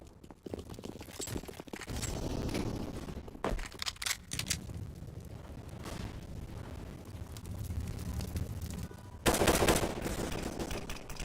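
Rapid automatic rifle fire from an AK-47 in a live Counter-Strike match, sharp repeated bursts with a loud cluster near the end, over dense in-game ambience and footstep-like clatter.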